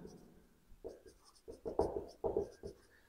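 A pen writes on paper during a class 10 math lesson, with short irregular scratching strokes that grow busier toward the end, close and fairly quiet.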